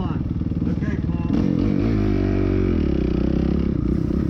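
A motorcycle engine in a sprint cross race on a farm course, loud and close, rumbling at idle then opening up sharply into a sustained high rev as the rider hits the gas.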